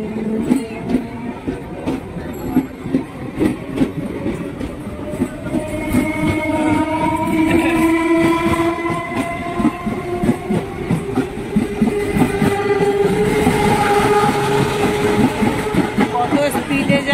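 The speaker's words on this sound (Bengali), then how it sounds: "প্রত্যেক দিন এই সময় এই ট্রেনটা আগে যায়" A train passes along the railway by a station platform, with a loud rumbling, clattering roll that builds and holds, and sustained horn tones sounding over it.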